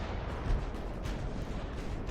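Big naval guns firing in the warship game Ultimate Admiral: Dreadnoughts: a dense, continuous roar of heavy cannon fire and rumbling blasts, with overlapping booms and no clear pauses.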